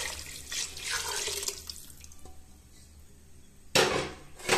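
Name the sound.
water being poured into cooking pot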